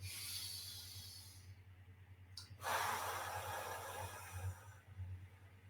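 During a guided body-scan relaxation exercise, a person draws one long, quiet breath in through the nose, close to the listener and softly rising after a brief pause.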